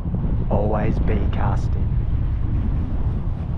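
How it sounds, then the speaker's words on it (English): Strong wind buffets the microphone in a continuous low roar while out fishing on the water, loud and close, with someone speaking briefly over it. "Wind's picking up."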